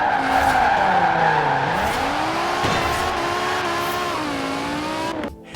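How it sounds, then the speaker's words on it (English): A 2005 BMW E60 M5 rear-wheel-drive sedan with a V10 engine and SMG transmission drives hard. Its tires squeal in long, wavering tones over a loud, steady engine roar until a sudden cut near the end. "Introducing the BMW E60 M5."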